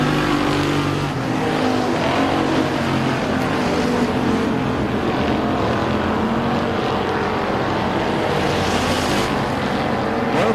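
Race cars roar around the oval at Rocket Raceway Park during a KR Cup race, a dense, continuous engine drone with passing surges, loud and sustained throughout.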